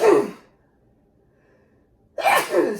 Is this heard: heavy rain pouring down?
no